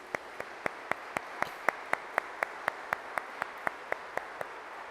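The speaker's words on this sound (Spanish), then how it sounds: "un aplauso para ella." A church congregation at a Spanish-language Sunday Mass claps for a woman's 80th birthday, with single crisp claps in a steady, even rhythm, about four per second, moderately quiet and with no talk.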